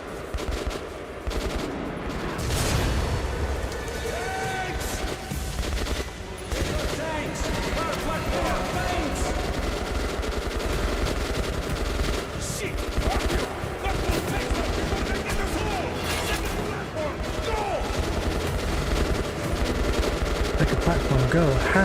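Gunfire in the Metro Last Light Redux video game, with repeated shots and bursts scattered through a long stretch of combat at moderate level, under a player talking.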